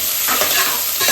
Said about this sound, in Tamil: இப்போ இந்த வெங்காயம் வந்து நல்லா வதங்கணும்